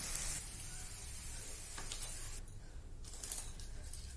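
Meat fries for bhuna gosht with a faint, steady sizzle and hiss that briefly dips and swells, with no voices.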